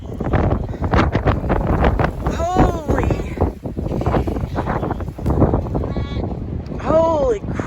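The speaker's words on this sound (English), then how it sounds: "Wind is terrible today." Strong gusty wind buffets the microphone on a sheep pasture, roaring steadily with sheep bleating several times through it and a person talking in between.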